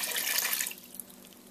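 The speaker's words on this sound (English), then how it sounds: "measure out exactly 1 cup of water in a liquid measuring cup and add it to the mixture." A cup of water poured from a liquid measuring cup into a peach freezer jam mixture, a close splashing gush for under a second that quickly fades to a soft trickle.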